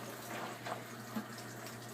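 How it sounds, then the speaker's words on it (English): A fencing lamé is soaked and squished around in a basin of water, giving a steady watery wash with a couple of soft sloshes over a low background hum. "Just completely immerse your lame in the water. Kind of squish it around a little bit."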